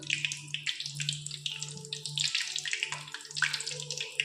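Lemon pieces sizzle and crackle in hot ration palm oil being refined in a pan, a dense steady frying hiss with bubbling pops, close and fairly loud, without talk.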